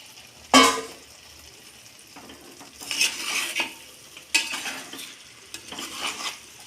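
Chicken masala for chicken pirattu sizzles and crackles in a pan as marinade water is added, with loud bursts of frying and the scrape and clatter of stirring in a quiet kitchen.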